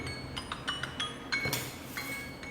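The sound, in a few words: stirring Backpacker's Pantry creme brulee dessert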